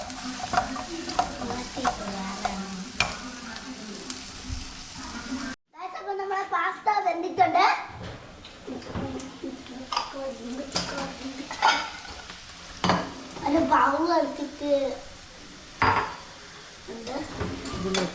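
Pasta cooks in a pan and gets stirred, with soft sizzling and scraping spoon strokes; after a brief dropout, voices that include someone talk over the stirring.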